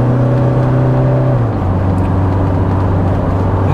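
A Toyota Hilux 2.8 diesel engine pulling hard, heard as a loud, steady drone from inside the cabin whose pitch drops partway through, as if shifting gears, then keeps humming.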